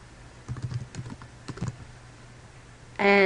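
Typing a list name on a computer keyboard: a few quick bursts of soft, close key taps in small clusters, ending with a short bright interface chime.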